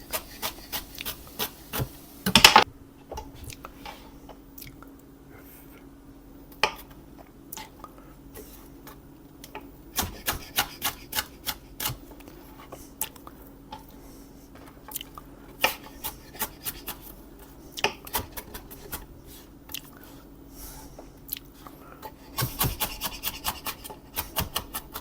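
Vegetables chopped with a knife in a home kitchen while making a simple tomato sauce, with irregular dry cuts and scraping taps across a board, some louder clusters, and a low steady hum behind.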